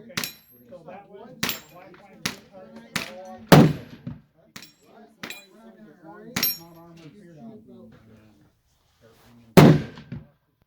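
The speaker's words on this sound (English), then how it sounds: "My friend is going to shoot this group." A 7mm PRC rifle fires a group of shots outdoors, a handful of sharp loud cracks at irregular intervals, with people talking quietly between them.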